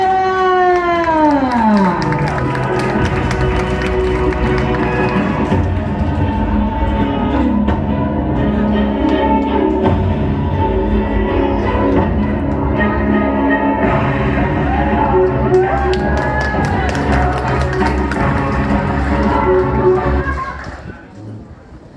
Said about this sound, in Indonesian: Kita beri aplaus yang meriah.